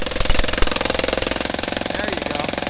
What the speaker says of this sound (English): Hey, who ever said I was jackhammering?